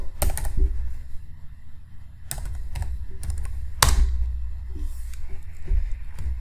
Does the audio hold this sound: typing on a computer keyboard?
yes